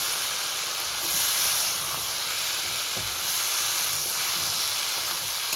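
Chopped vegetables frying in a pan for a small-fish chorchori, with a steady close hiss and sizzle and faint stirring scrapes throughout.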